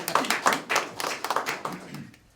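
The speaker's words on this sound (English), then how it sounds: "I want to stop and clap" A single person claps at a public safety grant announcement in Indianapolis, about a dozen sharp, uneven claps over a couple of seconds, fairly close and standing alone without talk.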